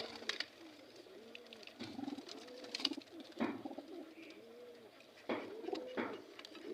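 Domestic pigeons, including young birds being let go by hand, give soft rolling coos that repeat at a slow, irregular pace. The coos are close and fairly faint, with light rustling and scattered bird sounds around them.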